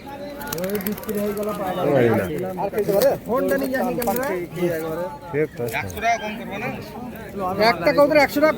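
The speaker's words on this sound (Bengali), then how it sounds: "এই ঝুড়ির মধ্যে যে কটা কবুতর আমি দেখলাম অধিকাংশ সব বাজির পায়রা" Pigeons held in a basket at the Beldanga pigeon market in Murshidabad, mostly tumbler pigeons, coo and rustle nearby. The birds are partly buried under almost constant close conversation.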